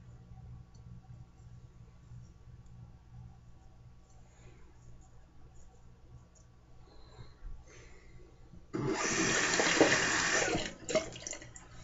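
A bar of soap is worked into a lather under a running tap: quiet handling and faint rubbing at first, then a sudden loud rush of water from a faucet for a few seconds before it cuts off.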